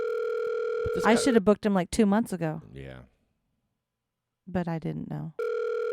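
A steady telephone tone sounds while a call is placed. It plays at the start, breaks off as a person speaks, and returns after a short silence.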